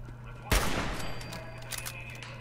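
Gunfire from Fallout 4 erupts in a sharp burst followed by a rolling spray of rapid shots, moderately loud, against a steady low hum of game ambience.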